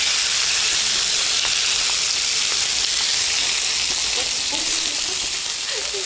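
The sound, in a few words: beef stir-frying in sesame oil for tteokguk soup base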